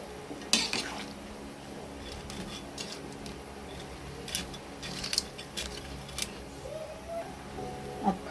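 Pancit canton noodles stirred in a pan, a utensil clinking and scraping against the metal in scattered light taps over a steady background hum.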